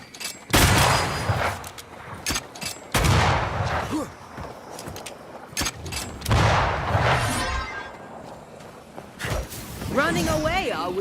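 Spectral fire rains down in the video game Banishers: Ghosts of New Eden as a series of loud booming blasts and crackling bursts, with combat sounds between the impacts.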